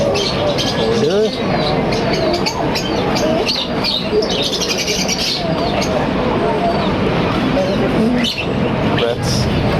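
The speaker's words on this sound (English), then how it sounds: "Birds." Birds chirp and coo amid a busy animal market, with pigeons or doves among the calls, heard under continuous nearby chatter from passing visitors and general crowd noise.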